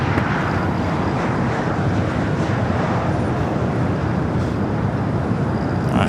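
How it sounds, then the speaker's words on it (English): An American Airlines Boeing Dreamliner bound for London Heathrow rolls down runway 25 right at Los Angeles International Airport, giving off a steady, broad jet roar that holds at constant loudness with wind buffeting the microphone. "that American Dreamliner heading to London Heathrow now, rolling down at 25 at right."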